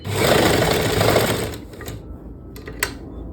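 Sewing machine stitching palazzo pant fabric, a fast loud continuous whir for about a second and a half, then slowing and stopping, followed by a few light clicks.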